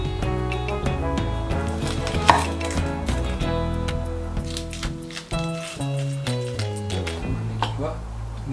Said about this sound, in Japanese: 少し気持ち小さめのみじん切りの方が団子にしやすくてまとまりやすくていいと思います。